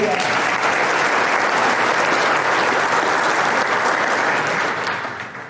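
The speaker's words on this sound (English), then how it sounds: "I think I deserved a round of applause." Applause from a large crowd at a chamber of commerce annual banquet, loud sustained clapping filling the room evenly before tapering off toward the end.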